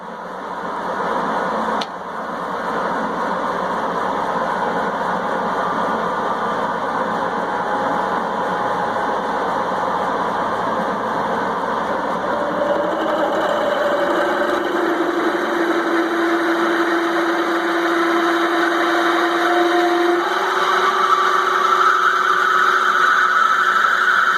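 A Moore #3 jig borer drilling with a large bit at low speed, about 900 RPM, gives a steady machine hum and whine with a tone that rises near the end, close and continuous, no talk.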